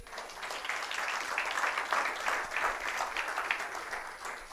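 A church congregation applauds together, a dense, steady wash of clapping that swells and holds for several seconds at moderate distance, with a faint murmur of voices underneath.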